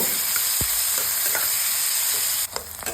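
Onion frying in a pan after a tempering of bay leaf, dried red chilli and cumin, a steady loud hiss of sizzling oil throughout with a few faint utensil knocks, close by and without talk.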